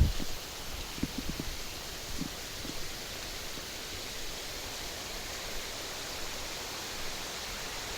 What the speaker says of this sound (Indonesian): ini aliran Sungai Bogowonto udah kedengeran dari sini